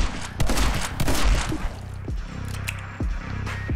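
Gunshots in the video game My Friend Pedro: a burst of several close, sharp shots early on, then single heavy reports spaced about a second apart, each with a short decaying tail.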